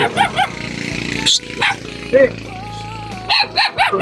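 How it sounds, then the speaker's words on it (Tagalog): Abandoned puppies bark and yip in short bursts near the microphone, with people talking and other scattered sounds around them. "Mga tinapon pala yung mga tuta."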